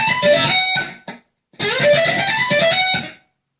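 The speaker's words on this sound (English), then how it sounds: "it's basically just a whole tone scale." Distorted electric guitar plays a whole tone run without a whammy bar, two fast, loud bursts of notes separated by a short gap, alone.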